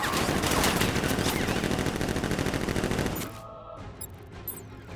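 Guards in Batman: Arkham Knight open fire in a heavy, continuous volley of automatic gunfire that cuts off abruptly after about three seconds, leaving a few scattered sounds.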